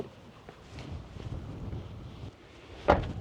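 Strong wind gusts of up to 40 mph buffet a truck camp at night, a rushing roar with low rumble that swells and ends in a sharp close blast, no speech.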